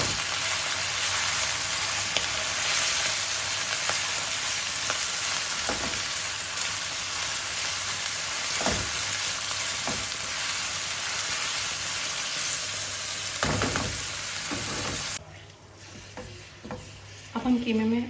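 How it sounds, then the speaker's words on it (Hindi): Minced meat frying with onions in a pan, a steady loud sizzle with occasional stirring scrapes, continuous throughout and briefly dipping near the end. "कीमे को 1 से 2 मिनट फ्राई करेंगे प्याज के साथ"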